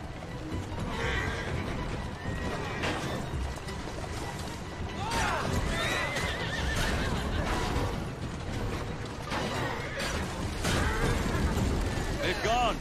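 Horse whinnies and clopping hooves amid busy Assassin's Creed Syndicate game sounds, with a voice speaking over the action.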